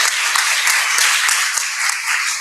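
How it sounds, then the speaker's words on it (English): Audience at a physics conference plenary session applauding the speakers, steady broadband clapping from a sizable crowd lasting the whole stretch, loud and even with no talk over it. "Let's have a round of applause for all our intrepid speakers."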